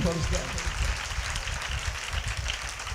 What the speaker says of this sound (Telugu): అందరు చప్పట్లు కొట్టి దేవుని గణపరుస్తా